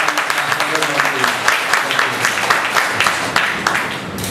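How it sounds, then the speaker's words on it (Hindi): An audience at an arthritis talk claps to welcome the speaker, producing dense, close, continuous applause throughout. "जोरदार ताली से स्वागत करिए।"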